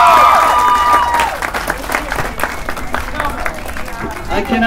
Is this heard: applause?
yes